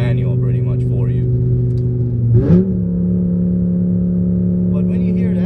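A 2006 BMW M5 E60 with its V10 engine drones steadily and loudly up close, with a short sharp rev blip partway through before settling back into a smooth hum.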